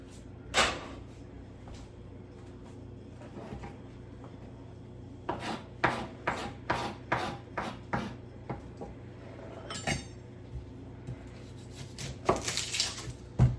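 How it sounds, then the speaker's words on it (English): A knife chops an onion on a wooden board for a sausage, egg and cheese muffin: a few isolated cuts, then a quick run of about ten evenly spaced chops, then more scattered cutting, close and clear. "Chop the onion."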